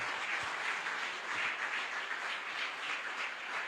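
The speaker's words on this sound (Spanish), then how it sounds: "Si puede, aplauda fuerte al Rey de Reyes y Señor de Señores." Church congregation applause during a sermon by Pastor Carlos Rodelo, a soft, even wash of clapping heard from a distance, steady for a few seconds.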